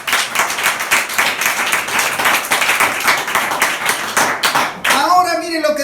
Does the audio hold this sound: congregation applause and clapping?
yes